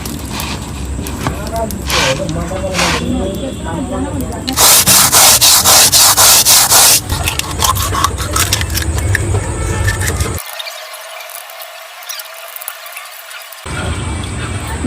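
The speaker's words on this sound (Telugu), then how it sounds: "ఇప్పుడు మనం దీని అయితే తోమేసుకున్నాం కొరమేను." A live murrel fish (korameenu) is scrubbed with sand, giving harsh rasping strokes in bursts with a long loud stretch in the middle, while people talk over it.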